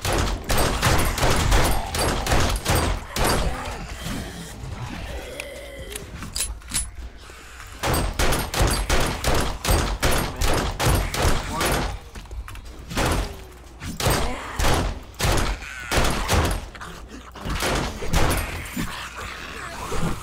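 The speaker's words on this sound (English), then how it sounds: "Sorry, I went nuts with the gun there for a minute, didn't I?" Sustained gunfire in 7 Days to Die with the Darkness Falls mod: long runs of rapid, close, loud shots, broken by a few short pauses, lasting the whole stretch.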